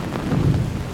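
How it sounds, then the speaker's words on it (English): Low rolling thunder from a sudden storm at sea rumbles steadily beneath heavy rain, full and loud for a brief moment. "And thunder and lightning."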